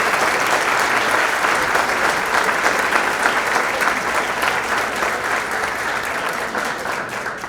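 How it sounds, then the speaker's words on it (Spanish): Audience at a conference applauding students, a loud, dense, sustained wash of clapping from many hands that holds steady throughout and tapers slightly at the end. "les pedimos por favor muy fuerte aplauso para todos los alumnos"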